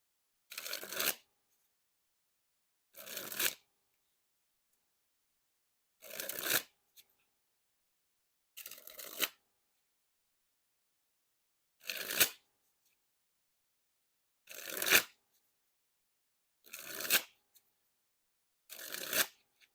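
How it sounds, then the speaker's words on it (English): Black Lions Seconds playing cards by David Blaine dribbled from hand to deck in eight short, crisp riffling bursts spaced a couple of seconds apart, close and clear with silence between. "the dribble seemed to be pretty smooth there"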